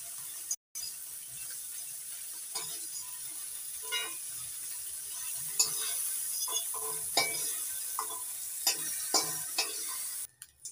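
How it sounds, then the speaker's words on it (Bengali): Prawns frying in a pan, a low sizzle under repeated scraping and clacking of a spatula stirring in irregular bursts, close and fairly quiet, no talk. "চিংড়ি মাছগুলো হালকা একটু ভেজে নিয়েছি।"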